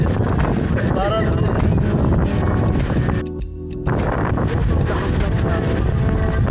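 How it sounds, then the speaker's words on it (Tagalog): Strong wind roars and buffets the microphone continuously at El Nido, with a rushing, gusty noise, blowing water spray, and a brief dip partway through. "super lakas ng hangin, naaanggihan kami ng tubig"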